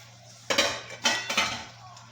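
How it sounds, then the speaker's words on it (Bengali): A utensil scrapes and clinks against a pan while turmeric, chilli and cumin are stirred and sautéed, with three or four distinct close strokes in quick succession before falling quiet. "মশলাটা কষাচ্ছি।"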